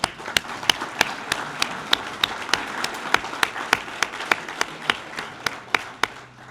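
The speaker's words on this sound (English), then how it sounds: "Let's give them a round of applause right now." Applause for volunteers at a charity gala, with a few sharp, distinct claps standing out in a steady rhythm over a softer bed of scattered clapping from the audience.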